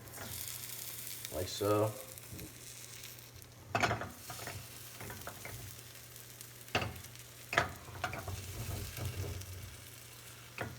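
An omelet's beaten egg cooks in a pan with a soft, continuous sizzle, broken by occasional clinks and scrapes of a utensil, while someone talks over it now and then.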